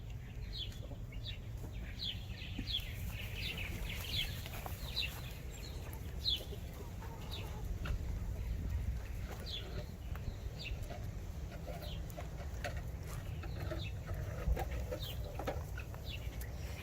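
Guinea fowl and chickens cluck and chatter in a farm coop, a steady dense layer of overlapping calls at moderate distance, mixed with rustling and occasional wing flaps.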